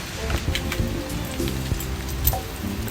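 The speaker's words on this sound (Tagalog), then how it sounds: "Lakas ng ulan." Heavy rain pours down at a campsite on San Rafael Road, drumming steadily on surfaces with dense pattering and occasional louder drips, while someone speaks briefly nearby.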